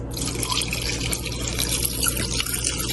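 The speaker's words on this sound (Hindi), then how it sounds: "मैंने इसमें 4 गिलास पानी डाला है।" Water poured steadily onto meat in a cooking pot while making yakhni pulao, a continuous close rushing splash with no talk.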